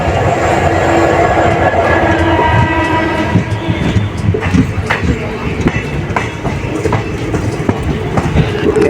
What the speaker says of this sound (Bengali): আর আমাদের ট্রেন এখন ছেড়ে দিল আলোয়াবাড়ি রোড।